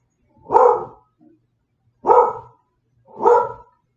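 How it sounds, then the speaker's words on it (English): A dog in a backyard barks at a cat with three loud, separate barks at about even intervals, each close and clear against a quiet background. "So I will do my best to edit out the barking."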